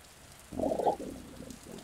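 A low, rough rumbling snore rises suddenly, peaks, then trails off into a softer rattle in a quiet room.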